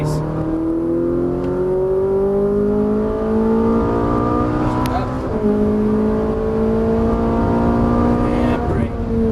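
A Ferrari 458 Italia accelerates on a race track at Exotics Racing in Las Vegas, its engine note loud and close, climbing steadily in pitch through a gear with a brief shift midway, while a voice speaks over it.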